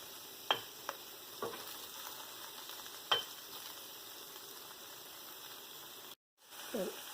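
Paneer cubes crisping in a pan, a steady sizzling hiss with a few sharp spatter pops and brief stirring scrapes, then a moment of silence before the frying noise returns.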